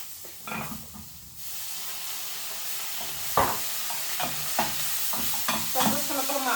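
Onion frying in a pan for a vegetable and prawn stir fry: a loud, continuous close sizzle, punctuated by repeated scraping and stirring knocks of a utensil, with no speech.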